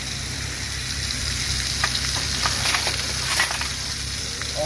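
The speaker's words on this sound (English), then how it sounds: "now I'm gonna put the oil to one side of the pan to get a quicker sear" Beef sears in hot oil in a pan for a Jamaican Christmas dish, giving a steady, close sizzle with crackling pops that swell and fade, and no voices.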